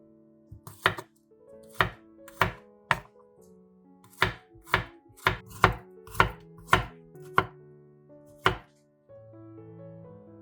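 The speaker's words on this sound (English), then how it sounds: "Chop 4 cloves of garlic." A knife chops garlic cloves on a board with about a dozen crisp, sharp strikes in an uneven rhythm, close and clear, then a softer clatter at the end.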